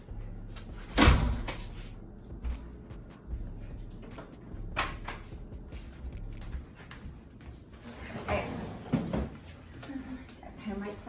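A second door in an apartment opened near the kitchen: sharp knocks and a clunk are heard among soft handling noises, with a person talking.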